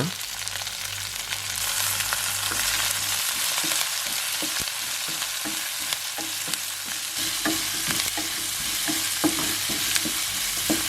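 Chopped small and medium onions sizzle and fry in a pan for a ridge gourd skin chutney, a steady close crackle with occasional stirring scrapes and taps.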